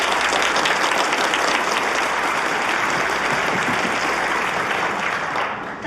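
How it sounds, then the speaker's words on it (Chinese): An audience applauding a debate team at a debate competition, loud sustained clapping filling the room, tapering slightly at the end. "也让我们把掌声送给他们"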